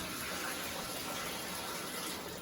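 Water being poured into a camping cooking pot, a steady broadband rushing and splashing that runs evenly and fairly close for the whole short stretch, with no voices over it.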